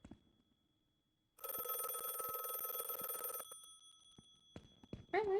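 A telephone rings in an abandoned asylum in a horror video game: a loud, continuous electric bell trill for about two seconds after a quiet stretch, followed by faint clicks and a brief sharp tone.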